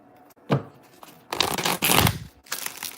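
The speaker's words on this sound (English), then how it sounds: "4 shuffles." Playing cards being shuffled several times during a tarot-style reading, with papery riffling bursts, one short then two longer stretches of crisp rustling, close and fairly loud with no talk.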